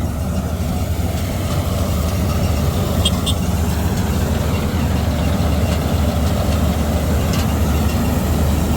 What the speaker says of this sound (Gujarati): એક ઓર થ્રેસર હાલે છે ઘઉંનું કટર હાલે છે કટર